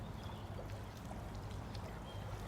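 The flooded River Dean, a small river swollen by rain and snowmelt, rushes in a loud, continuous roar of water heard close by.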